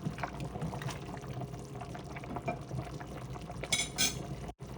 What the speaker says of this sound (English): And then I'm going to add the tomatoes in there.